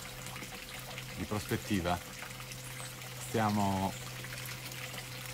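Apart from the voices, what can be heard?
water flowing outdoors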